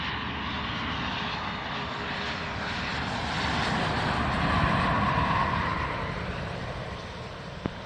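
Private jet landing on runway 16R at Van Nuys Airport, a broad steady engine roar and rushing whine at moderate distance, swelling slightly midway then easing, with no voices.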